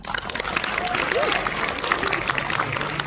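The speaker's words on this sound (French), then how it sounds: "Pour ça, vous pouvez vous applaudir quand même" Applause from a crowd at a live event in Nantes rolls on as dense, continuous clapping, with voices and a few cheers mixed through it.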